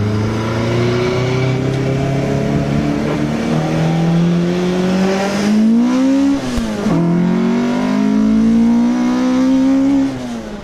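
A dry-sumped Toyota AE86 with a 7AGE engine on intake trumpets revs hard toward 9,000 RPM. The loud, sustained engine note climbs and falls in rising sweeps, with a brief dip near the middle before it climbs again.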